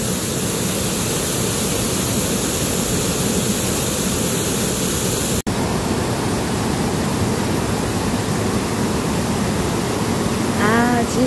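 Waterfall at Yongchu gorge in Juwangsan, Cheongsong, a loud, dense, unbroken rush of falling water filling the whole stretch, with a brief click midway and a faint voice near the end.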